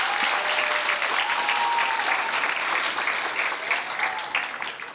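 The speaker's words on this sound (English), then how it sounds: "so give yourselves a round of applause" Graduates applaud at a 2022 graduation ceremony, a dense, steady wash of many hands clapping that fills the room and fades slightly toward the end.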